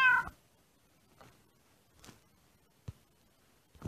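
A kitten meows in the Mastercraft video game, one clear cry at the start followed by a few faint, brief squeaks scattered over otherwise quiet seconds.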